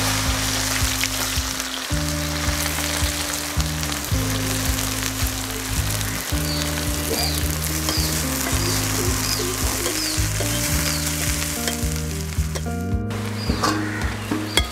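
Onions frying in a pan for Thalassery biryani masala give a steady, moderately loud sizzle over a persistent low humming drone with shifting tones.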